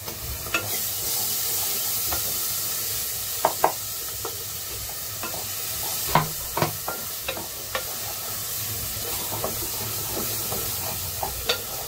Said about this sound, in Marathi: आता हे वाटण टाकूया. कांदा खोबरा आणि कोथिंबीर.